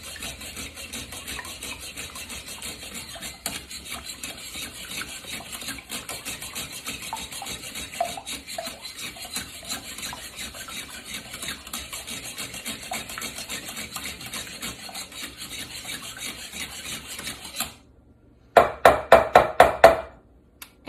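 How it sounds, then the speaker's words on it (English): One egg and a third cup of oil beaten in a bowl for cornbread batter, a steady scraping, whisking rasp for most of the stretch, then a short pause and a burst of faster, louder rhythmic strokes near the end. "And you're going to beat this until foamy."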